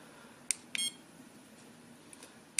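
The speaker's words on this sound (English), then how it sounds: "The following one switches off the beep sound. As you can see, on and off." An ISDT BC-8S lithium battery checker gives several short, sharp electronic beeps as its beep setting is toggled on and off, faint background hum between the isolated chirps.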